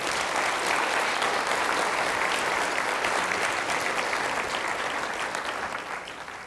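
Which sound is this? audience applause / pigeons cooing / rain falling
audience applause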